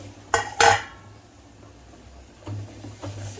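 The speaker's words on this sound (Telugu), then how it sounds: "మూత తీస్తున్నానండి" A metal lid is lifted off a cooking pot of frying onions, two sharp clanks close together followed by quieter scraping and light knocks of cookware.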